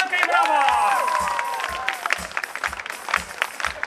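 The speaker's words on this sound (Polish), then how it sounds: "Kabaret Bajeczka! Wielkie brawa!" An audience at an outdoor cabaret show during a city festival bursts into applause and cheering, loud at first, then thinning into scattered claps, with a voice over the top at the start.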